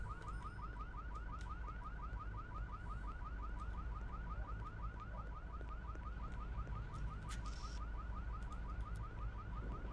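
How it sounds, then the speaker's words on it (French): Car alarm in the Hitman: Contracts video game wails steadily in a fast repeating warble for the whole stretch, loud and continuous over a dense game ambience, with no talk. "Il y a une possibilité de faire quelque chose avec l'alarme de voiture."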